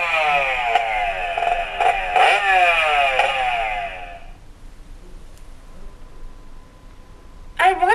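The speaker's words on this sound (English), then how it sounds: "I want to ride the motorcycle." A motorcycle engine revs loudly with rising whines for a few seconds, then fades, leaving a quiet hum before a brief burst at the end.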